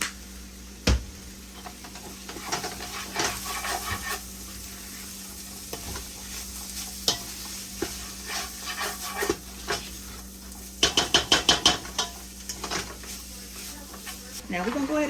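Liquid pours into a pan of ground turkey seasoned with garlic powder while it sizzles and is stirred, for homemade hamburger helper; steady frying hiss with scraping stirs and a busier splashing stretch near the end.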